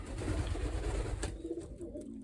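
Pigeons coo in the compartments of a loft, soft low calls up close over a rumbly background that drops away partway through.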